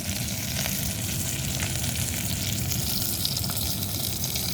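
Dried fish sizzling in hot oil, a steady dense crackle and hiss that runs unbroken from start to finish at close range, with no one talking.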